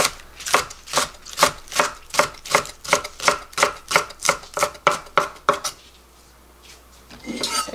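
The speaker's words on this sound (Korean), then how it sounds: "이게 대파가 별로 굵지 않으니까 이게 송송해서요" A knife chops thin green onions (daepa) on a cutting board with about sixteen quick, even strokes, then the chopping stops and a soft scrape follows.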